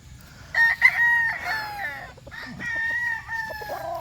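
A chicken calls close by with drawn-out clucking, crowing-like cries over a low, steady background hum.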